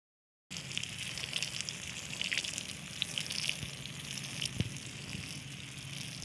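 Water sprays and splashes steadily onto chili seedlings after a brief silence, a continuous hissing spatter with occasional louder drips, close by.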